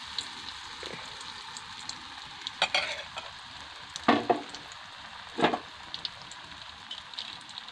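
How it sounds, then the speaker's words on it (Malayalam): Ennayappam batter fries in boiling oil with a continuous soft sizzle, broken by a few sharp spatters and utensil scrapes. "നന്നായി തിളച്ചു വരുന്നുണ്ട്."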